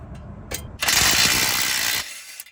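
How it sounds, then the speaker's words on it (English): A ratchet working on the 19mm castle nut of a Toyota tie rod after the cotter pin comes out, a few separate clicks and then a loud, close burst of rapid ratcheting that stops abruptly. "First thing we're gonna do is remove this cotter pin and 19mm castle nut"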